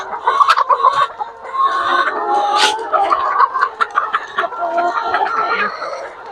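Five-month-old laying hens cluck and chatter close by, a loud, busy flock with overlapping calls throughout, one briefly rising above the rest.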